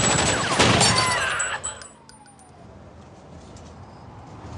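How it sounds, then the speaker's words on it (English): In a 2008 action movie trailer, a loud, dense burst of heavy gunfire mixed with shattering debris dominates the first two seconds, then drops to a low, lingering rumble. "Heavy gunfire exchanged."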